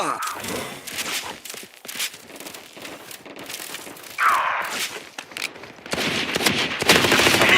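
Rapid automatic gunfire from a shooter video game rattles off in loud, close bursts with short gaps between them, stuttering on and off throughout.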